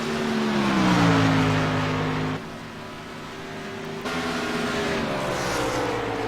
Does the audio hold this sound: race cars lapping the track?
yes